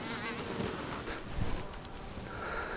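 Flies buzz close around hunters waiting outdoors in the back country, a loud continuous droning hum that swells and fades as they circle near the microphone.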